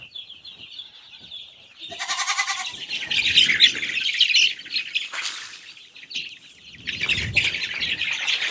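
Farmyard chickens squawk and cackle in a series of loud, close bursts, with rustling and movement between calls and no talking.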